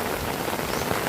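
Heavy typhoon rain during Typhoon Ramil hisses in a dense, continuous roar of drops hitting surfaces, loud and close with no other sounds.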